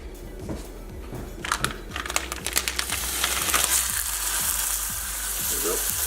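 Beef hits hot olive oil in a pan and a loud, continuous sizzle builds and spreads, with scraping and clacking from stirring over the frying hiss.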